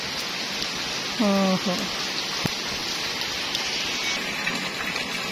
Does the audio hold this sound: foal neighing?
no